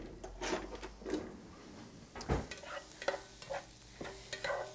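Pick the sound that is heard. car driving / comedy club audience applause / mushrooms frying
mushrooms frying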